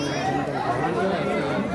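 A dense crowd chatters near a temple during Navratri, a continuous murmur of many voices close by, with no single clear speaker standing out.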